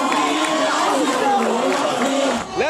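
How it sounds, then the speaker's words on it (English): A dense crowd gathered in Gaza to watch a results show, a loud continuous roar of many voices with cheering swells throughout. "This was the scene in Gaza, crowds gathering to watch the results show"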